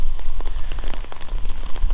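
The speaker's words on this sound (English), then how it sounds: "And now it's pissing down." Heavy rain pours down during a flood in Brisbane, a dense, close, steady patter of drops hitting the ground with no talking.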